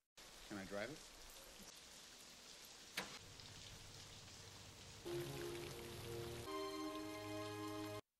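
Steady rain falls on a rainy night in a film scene from Cast Away (2000), a dense, even hiss throughout, with a brief sharp knock midway and sustained musical tones rising in the second half.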